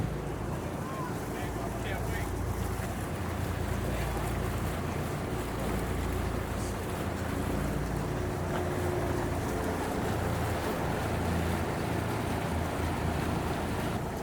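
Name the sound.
twin diesel outboard boat engines running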